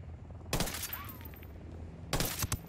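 Mk 18 rifle fire in a video game: two sharp, loud bursts of shots about a second and a half apart, each cracking over a low ambient game background.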